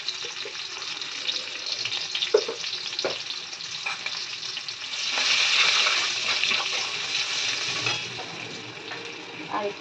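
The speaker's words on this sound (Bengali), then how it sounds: "অল্প করে পেঁয়াজ ভাজতে দিচ্ছি তার মধ্যে দিয়ে দেবো নুন আর হলুদ" Onions sizzle in a pan with salt and turmeric, a continuous bright frying hiss that swells in the middle, broken by occasional spatula scrapes and stirring clinks close by, with no talk.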